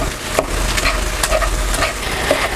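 Cooked food is mashed in a bowl during meal prep, a close series of soft squishing presses and a few sharp knocks of the utensil against the container, with no talking.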